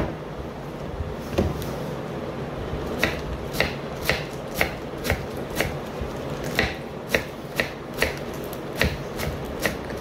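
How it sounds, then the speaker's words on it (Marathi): A knife chops spinach and radish greens on a board in a home kitchen, giving a run of sharp, evenly spaced cuts close by, about a dozen or more strokes with short pauses between them. No speech. "तर चला अशीच पटापट कापून घेते भाजी"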